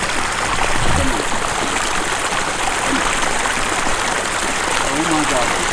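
Water trickles and spills over the edge of a camp-fire-heated pond water heater with a submerged pump. The trickle is a steady, close wash of running water, with voices talking faintly over it.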